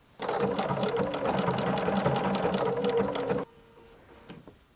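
A sewing machine runs steadily and loud, stitching small appliqué stitches along the edge of fabric for a tablecloth, then stops abruptly near the end, leaving quiet handling noise.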